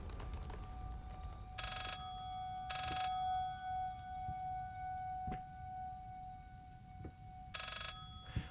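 A telephone rings in the horror video game Layers of Fear, three separate bursts of bell-like trilling over a steady low tonal drone and dark ambient rumble, with no voices.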